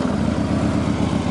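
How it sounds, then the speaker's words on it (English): A 2014 Harley-Davidson Ultra Classic motorcycle engine runs with a loping, pulsing low rumble, close and steady for the whole stretch. "Let's fire this bike up real quick."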